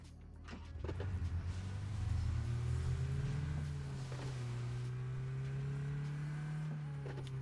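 A car engine in the video game PUBG drones steadily with a low rising and settling hum, fairly loud and continuous, with faint clunks and shifts over the top.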